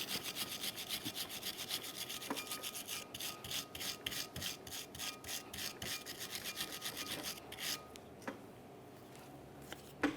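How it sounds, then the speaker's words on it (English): A wire brush scrubs a brake caliper bracket on a 2002-2009 Chevrolet Trailblazer, giving close, quiet, rhythmic scratching strokes in quick bursts that pause now and then and end with a few light taps. "We'll use a wire brush to clean up the area."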